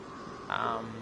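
A short, croaky call from a toad monster in the video game Dying Light rises briefly out of a steady low background hum, lasting about a third of a second.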